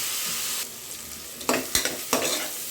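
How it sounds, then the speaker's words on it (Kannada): Onions frying in a pan for kushka rice: a steady, close hiss of sizzling oil, broken by three sharp scraping clatters from stirring toward the end. "ಸ್ವಲ್ಪ ಕಲರ್ ಚೇಂಜ್ ಆಗೋವರೆಗೂ ಫ್ರೈ ಮಾಡ್ಕೊಳ್ಳೋಣ"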